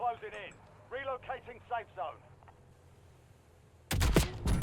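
Someone talks briefly, then a sudden loud burst of rapid gunfire in the video game Warzone rattles for about a second at the end.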